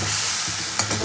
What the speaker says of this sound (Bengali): টমেটোটাকে তেলের মধ্যে একটু ভেজে নিয়ে এবার ওই বেটে রাখা মশলাটা দিয়ে দেবো। মশলাকে ভালো করে কষিয়ে নেবো।